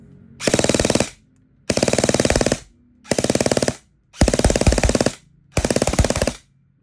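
An upgraded E&C HK416 A8 airsoft rifle fires five loud, close full-auto bursts, each a rapid mechanical rattle about a second long, separated by short pauses.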